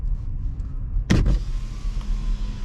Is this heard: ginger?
no